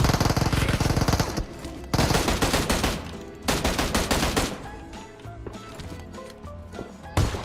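Rapid bursts of automatic gunfire from a shooting video game, loud staccato volleys separated by brief pauses, with faint background game sounds.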